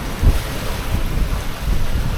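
Sea waves and gusting wind aboard a sailing boat bound for the Balearics, a continuous rushing wash with low thumps of water against the hull and heavy wind buffeting on the microphone, loud and close.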